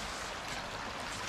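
A murky, rain-swollen river on an off-grid rural property, flowing as a steady close broadband rush of water with no voices over it.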